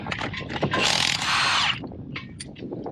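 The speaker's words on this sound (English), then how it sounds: "Rattle gun makes it easy." A pneumatic impact wrench rattles off car wheel nuts with the vehicle on axle stands, a loud buzzing burst of about a second amid clanks and handling noise.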